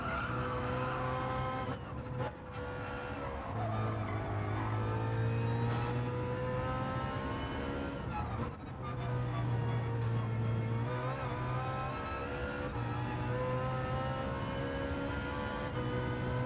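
BMW race car in Gran Turismo 7 lapping hard, its engine droning and shifting pitch as it revs through gears, with squealing tyres and no talk, loud and continuous throughout.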